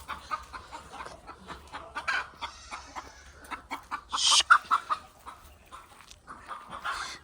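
Chickens cluck in short scattered bursts on a goat farm, with a sharper, louder squawk near the middle; no talking.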